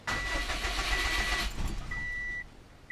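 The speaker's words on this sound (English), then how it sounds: "Yeah, it's restarted. I restarted it." A Subaru car engine restarting after a cylinder 3 misfire repair, heard as a steady running engine with a few thin electronic beep tones on top, fairly close and alone with no talk.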